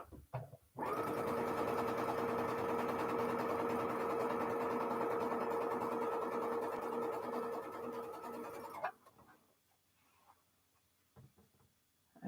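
A sewing machine stitches fabric for a stretched star quilt block in a steady, close, fast whirring run of about eight seconds, then stops, leaving a few faint handling clicks.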